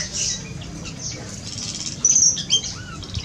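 A grey-headed babbler in an aviary gives a few thin, high chirps and squeaks over a soft rustling background, faint and close, with a brighter note toward the end.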